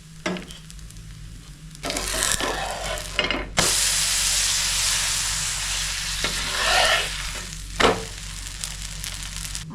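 Butter sizzling and frying on a hot griddle under a loni dosa, a steady loud hiss that swells and fades with brief scraping and stirring sounds, no talk.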